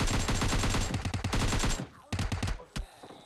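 Rapid automatic gunfire from a video game, loud and close, a dense burst for nearly two seconds followed by a few separate, scattered shots.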